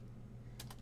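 Quick keystrokes on a computer keyboard, a short burst of three or four crisp taps near the end over a low steady hum, fairly quiet and close.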